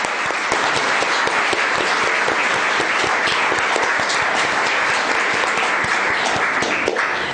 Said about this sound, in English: I just wanted to give William a round of applause.